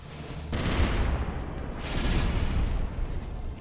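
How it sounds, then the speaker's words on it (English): Cannons fire in the strategy video game Symphony of War: Nephilim Saga, a rumbling volley of booms in two heavy surges, loud and close. "Fire the cannons!"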